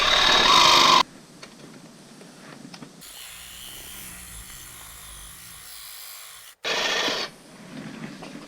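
A blade cuts through scrap metal in a loud rasping burst, stops, then grinds more quietly for several seconds before a second loud cutting burst, close by with no voices.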